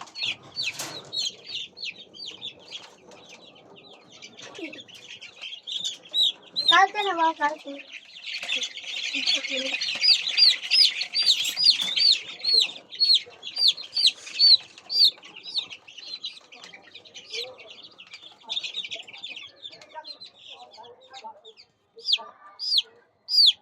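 Young chicks being vaccinated with eye drops against Gumboro disease chirp and cheep almost continuously in a dense, high-pitched chorus, with occasional clucks and wing flaps close by.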